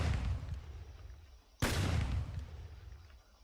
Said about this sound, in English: Oh, and the shotgun is a little bit glitched there.